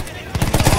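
Rapid automatic gunfire from the Battlefield 1 campaign, a loud, dense rattle of repeated shots in less than a second, with a voice briefly mixed in.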